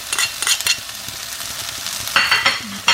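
Two garlic cloves sizzle in a pan of chorizo and peppers, a continuous frying hiss with repeated scraping stirs and a few louder spits near the end.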